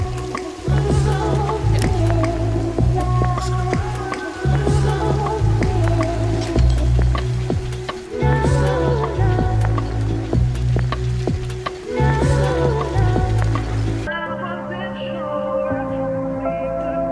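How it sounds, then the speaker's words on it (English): Rain-like crackle and dripping textures run through an electronic track, woven steadily into a dense beat for about fourteen seconds before the mix thins out and quietens near the end. "That's in the song. The rain, right?"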